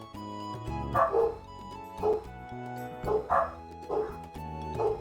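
Dogs in the Trails in the Sky video game bark in a steady run of about six or seven yips and woofs, moderately loud, over looping game background music.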